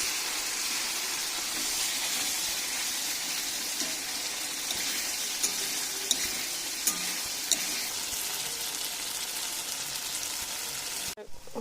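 Masala for a goat-meat mutton curry fries in oil with a sustained sizzle, intermittent stirring scrapes and a few sharp taps on the pan, ending abruptly.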